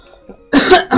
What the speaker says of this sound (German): Wegen dem Huster.